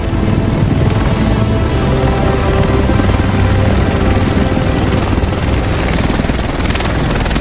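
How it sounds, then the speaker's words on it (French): A helicopter in the video game Tom Clancy's The Division roars up close, its rotor thudding steadily with a loud engine drone, alone without talk. "Le reste de l'équipe devrait être dans cet hélico."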